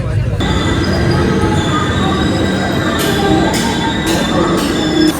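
Howrah Chennai Mail pulling into Balugaon station in Odisha, a steady loud rumble of rolling carriages with high brake squeals rising near the end, close by.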